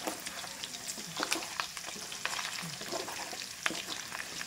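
Hard fat rendering down into cooking oil in a pan, giving a soft, steady crackle with scattered small pops and spits, fairly quiet and heard alone.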